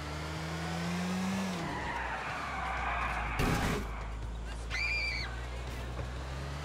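Car engine hum with tires skidding and squealing in Grand Theft Auto IV, a sustained low drone broken by a sharp skid burst midway and a brief rising squeal near the end.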